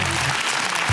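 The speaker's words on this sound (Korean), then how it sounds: "큰 박수 한번 부탁드리겠습니다" Studio audience applause on a Korean KBS television quiz show in 2003: a dense, steady wash of many hands clapping at once, fairly close and unbroken for a brief moment.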